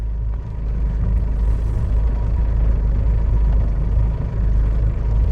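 A Tata Safari's engine crawls off-road in low first gear, a steady, close, deep rumble that holds an even drone throughout with no voices.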